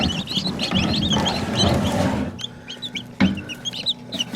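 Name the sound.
bantam cochin chickens clucking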